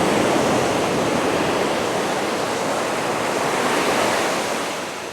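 Ocean waves washing onto the shore at Bruny Island, a steady close broadband rush of surf with wind that holds level throughout and eases slightly at the end, with no voices.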